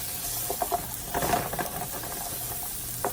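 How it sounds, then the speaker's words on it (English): Butter, half a stick, goes into a hot pan of seafood sauce and sizzles steadily, with scattered stirring clinks and spatters over a constant frying hiss, close by and with no talking. "now I'm going to add about half a stick of butter"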